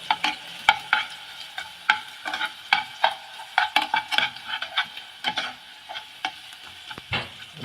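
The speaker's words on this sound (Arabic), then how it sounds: "نبدأ يا جماعة نقلب الثوم كده لحد ما يحمر معانا" Garlic stirred and fried in a pan while a baked minced-meat pasta dish is being made, with steady sizzling broken by frequent sharp scrapes and clinks of the spoon against the pan, close and fairly loud, no talking.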